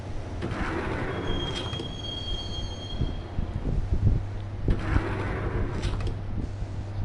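A subway train in the Max Payne video game rolls along with a steady low rumble, rhythmic wheel clatter over rail joints and intermittent high metallic squeals, continuous and fairly close throughout.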